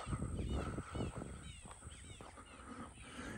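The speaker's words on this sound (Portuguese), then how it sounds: "Som dos pássaros, tem sombra, árvores bonitas" Birds call and chirp repeatedly through a shady, tree-lined street on an early holiday morning walk, with steady outdoor background noise and occasional louder passing sounds.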